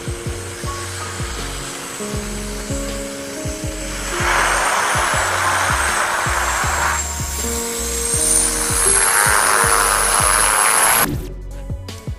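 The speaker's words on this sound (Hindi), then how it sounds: "देखिए प्लेन किस तरह बर्फ को चीरता हुआ बढ़ा चला जा रहा है।" A plane landing and ploughing through snow, with a steady broad roar of engines and rushing snow that swells midway and cuts off near the end; an electronic tonal pattern runs throughout.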